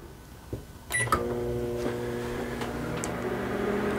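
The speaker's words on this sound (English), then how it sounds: "So now we're gonna start the microwave." A beep and a click are followed by a steady mechanical hum with a low drone as a microwave oven starts and runs, drawing 2000 watts from a 48V LiFePO4 RV battery system.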